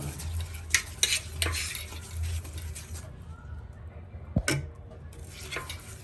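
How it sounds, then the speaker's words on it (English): A spoon stirs wheat flour halwa in a non-stick pan, scraping and clinking in uneven strokes over a low sizzle, with a brief quieter gap midway. "Continuously you have to keep on stirring."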